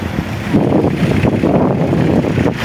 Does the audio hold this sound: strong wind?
yes